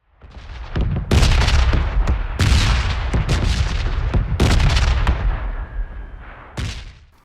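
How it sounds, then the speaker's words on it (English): Bombs burst in the red zone of the PUBG battle royale game, a dense run of loud, booming explosions that overlap one after another for several seconds and then fade out. "And the bombs in the red zone are also a lot louder now."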